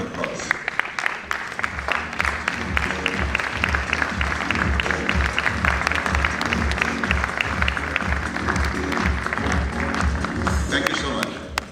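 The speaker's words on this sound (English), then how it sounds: "May I request all of you to kindly give a standing ovation with a huge round of applause." An audience at a Rotary district event gives a standing ovation, dense sustained applause of many hands clapping that fills the room for over ten seconds, with voices mixed in beneath it.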